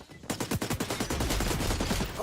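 Rapid gunfire from the shooter game xDefiant, a dense burst of fast repeated shots after a brief quiet start, loud and close, with game sounds and a voice faintly underneath.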